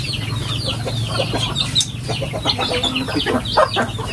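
Chickens and chicks cluck and chirp near a small hut on a rural Philippine farm, with busy overlapping calls and high peeps throughout and a steady low hum underneath.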